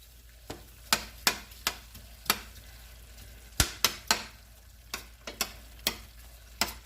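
Sliced red and green peppers and onions are stirred in a pan, with a faint frying hiss under sharp, irregular scrapes and knocks of a utensil against the pan, close by and with no talk.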